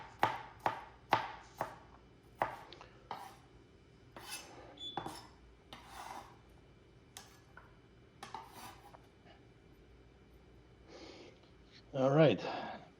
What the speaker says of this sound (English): I love chopping stuff up.